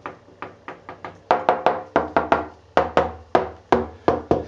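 Repeated knocks on a loose ceramic wall tile, about a dozen sharp, fairly close raps in an uneven rhythm, the later ones hitting harder and ringing hollow, with no talk.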